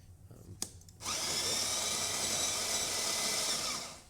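A DeLonghi La Specialista Arte espresso machine grinds coffee at its minimum dose setting. A sharp click comes first, then a loud, steady, high-pitched grinder whir runs for about three seconds and fades slightly at the end.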